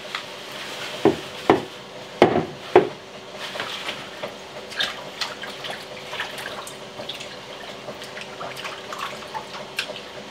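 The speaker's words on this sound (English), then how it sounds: "put these in the sink to let them continue to drain while I wash the new batch" Leafy greens washed in a kitchen sink with running water, several sharp knocks and splashes near the start followed by a steady trickle with soft irregular sloshing and drips.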